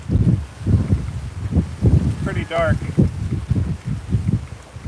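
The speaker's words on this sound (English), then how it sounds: "it is pretty windy" Gusty wind buffeting the microphone on the Lake Michigan shore at Montrose Harbor, Chicago, low rumbling bursts that rise and fall continuously while a person talks briefly over it.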